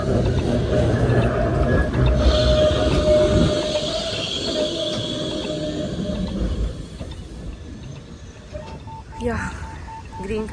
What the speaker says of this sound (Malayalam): അടുത്ത ട്രാം വന്നു.